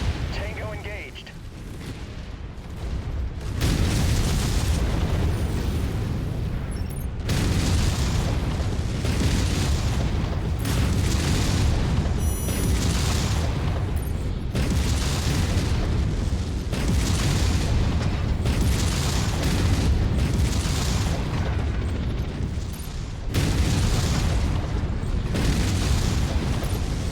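Loud, continuous barrage of booming explosions and heavy weapon fire in the mech combat game MechWarrior 5, with an Atlas AS7-RS mech battling, dense rumbling blasts following one another for nearly the whole span.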